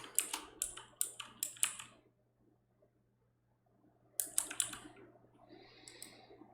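Fingers tap quickly on a computer keyboard to type a project name, with two short bursts of crisp, close clicks separated by a pause.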